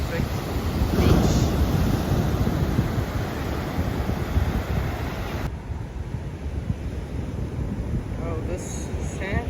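Ocean surf rolling onto a warm, dark-sand swimming beach at Puerto Viejo, Costa Rica, a steady loud wash of waves with wind buffeting the microphone throughout.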